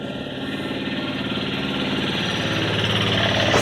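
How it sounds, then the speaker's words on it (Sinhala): Car engines in a racing video game drone in a steady, loud, buzzing hum that slowly swells in intensity over a few seconds, with no talking. "වාහන වල සද්ද ඇඩි ගණන් ගන්න එපා"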